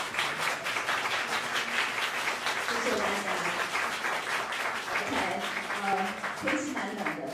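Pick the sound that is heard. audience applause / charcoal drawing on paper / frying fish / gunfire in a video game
audience applause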